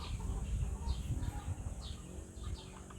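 Native free-range chickens of mixed Philippine breeds cluck and call softly over a steady low outdoor rumble, with a few brief higher chirps scattered through.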